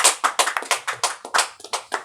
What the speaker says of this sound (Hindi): सुनने के जोरदार तालियां बजाइए